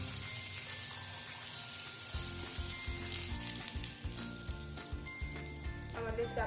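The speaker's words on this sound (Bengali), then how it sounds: "কাবাবগুলোর এক পাশে ভাজা হয়ে গেছে, আরেক পাশ হওয়ার জন্য কাবাবগুলোকে উল্টে দিচ্ছি।" Chapli kebabs fry in hot oil in a pan with a loud, continuous hiss, then a spatula turns them over in a run of close clattering scrapes while the sizzle carries on, with no talking.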